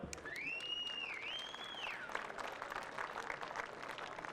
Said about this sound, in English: How about a round of applause for all these gentlemen?